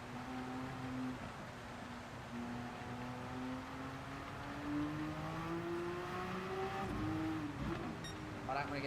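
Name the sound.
race car engines in the video game Gran Turismo 7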